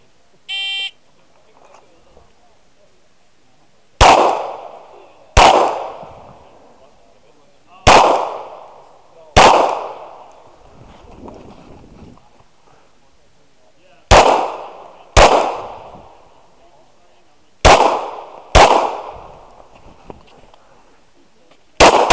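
Pistol shots ring out on an action pistol shooting stage at an indoor shooting center after a short timer beep. About nine loud, sharp reports come in uneven pairs and singles, each with a fading echo.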